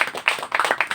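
An audience claps together to thank a guest speaker at a devotional talk. The clapping is brief and moderately loud, with dense, irregular bursts from many hands and no voices.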